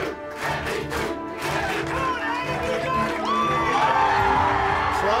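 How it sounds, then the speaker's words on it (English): A crowd at a colossal food-eating challenge cheers and shouts in rallying support, a dense, sustained roar of many voices that grows louder toward the end. "the crowd starts rallying louder than ever"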